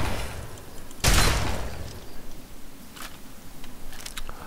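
A single sharp gunshot blast in Fallout 3 stands out loudly, followed by fainter scattered clicks and combat noise.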